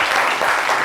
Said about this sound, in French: Applaudissements pour Shekina.